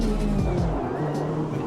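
Chevrolet Corvette C8R race car in Automobilista 2 revving up and down through quick gear shifts, its engine tone rising and dropping, with a faint tire squeal and a voice murmuring underneath.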